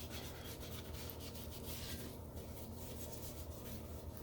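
Steady rubbing and wiping on a toilet's porcelain tank and pedestal mating surface during toilet installation, a continuous close scrubbing texture with no talk.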